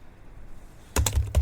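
A handful of quick keystrokes clack on an HP laptop keyboard, a short close burst of about four taps following a moment of near silence.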